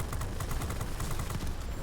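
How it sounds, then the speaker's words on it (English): Secondary guns on a Yak-9 fighter in World of Warplanes fire a steady, rapid stream of evenly spaced shots, fairly quiet and unbroken for the whole stretch. "see right now I'm just firing my secondaries"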